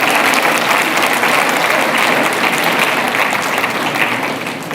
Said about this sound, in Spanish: Ahora se aplauden, ¿verdad?